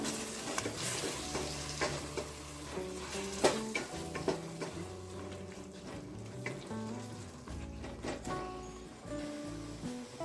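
Biryani masala with yogurt fries in a pot for egg dum biryani, giving a continuous bubbling sizzle while a spoon scrapes and stirs repeatedly at close range.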